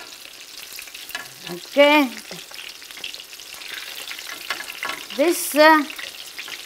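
Whiting fish fries in a pan under a soft, low crackle while someone speaks a few short words over it.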